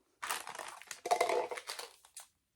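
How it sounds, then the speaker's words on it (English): Brand-new scissors cut through stiff material in two short bursts of crunchy, crinkling snips, close and fairly quiet, with no talk. "Will I destroy these brand new scissors for this?"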